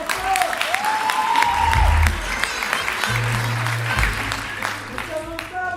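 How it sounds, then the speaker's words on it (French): A variety-show audience claps loudly in sustained applause, with a burst of cheering, a voice and musical stings and tones sounding over the clapping. "Applaudissez encore."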